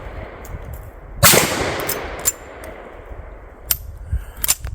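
A rifle shot rings out outdoors and strikes a metal bull target with a sharp, loud clang that rings and decays, followed by a few smaller metallic taps.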